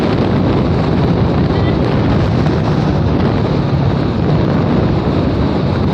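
Strong wind buffets the microphone during a motorcycle ride on a Raider 150 Fi through Nueva Ecija toward Dingalan, a loud continuous roar of gusting air with no speech.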